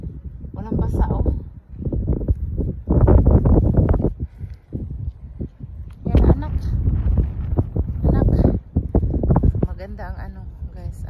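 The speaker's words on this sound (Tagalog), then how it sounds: "ang hangin" Wind gusts outdoors at night during a walk around Diplomatic, buffeting the microphone with low, uneven rumbles while people talk through most of it.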